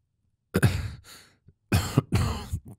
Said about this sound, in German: Der junge Mann hustete zweimal, ehe er antwortete.